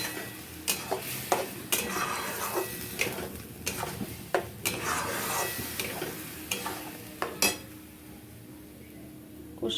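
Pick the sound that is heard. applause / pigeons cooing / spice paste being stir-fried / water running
spice paste being stir-fried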